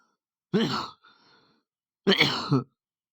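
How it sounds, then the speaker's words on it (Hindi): Two short, close coughs separated by a pause of about a second, with a faint breath after the first. "खाँसी ज़्यादा हो गई।"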